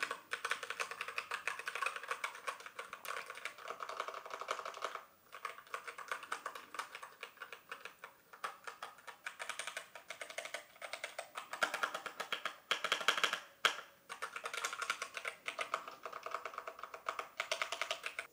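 Steady, continuous typing on a Redragon Zed Pro wireless RGB mechanical keyboard fitted with quiet brown switches, dense close-up key clacks with a couple of brief pauses and no talking.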